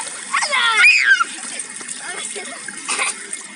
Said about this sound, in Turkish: Arkadaşlar şelale gibi yıkanıyor.